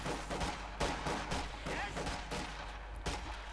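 Grenadiers exchanging gunfire with rear echelon troops in the Company of Heroes 2 video game, a dense run of rapid, faint rifle and machine-gun bursts crackling continuously through the scene.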